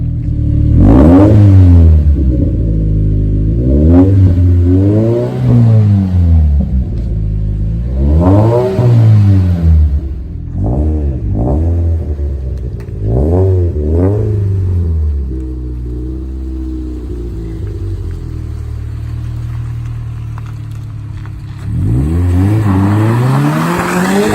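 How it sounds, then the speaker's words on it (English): A turbocharged Scion FR-S engine with dual exhaust revs hard through repeated rising and falling pulls, the exhaust roaring loudly and then settling into a deep, rumbling idle. "Sound of the exhaust."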